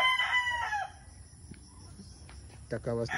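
Bulik rooster crowing close by, a drawn-out crow at the start and another beginning at the end, with quiet yard sounds in between.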